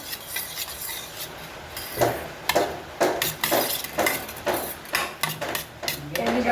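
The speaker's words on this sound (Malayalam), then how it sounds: "പിന്നെ നമുക്ക് അതിലേക്ക് ഗ്ലിസറിൻ ചേർത്ത് കൊടുക്കാം. നമുക്കിത് ഇളക്കി കൊടുക്കാം." A soap mixture of aloe vera gel, vitamin E and glycerin is stirred in a container, giving repeated close scraping and rubbing strokes in an uneven rhythm.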